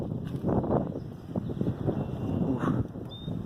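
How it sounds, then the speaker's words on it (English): Cold breeze blowing through a forest beside a wetland, a steady rushing wind buffeting close against the microphone with no voices. "it's just it's so breezy. The breeze is so cold."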